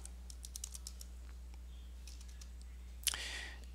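Computer keyboard typing on a Linux setup: a quick run of light, close key clicks, then a pause and a final sharper click with a brief trailing hiss, all fairly quiet.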